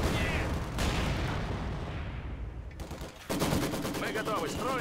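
Machine gun bursts and scattered gunfire rattle through a Company of Heroes 2 battle, a sustained noisy barrage with a rapid staccato stretch near the end, while a voice talks underneath.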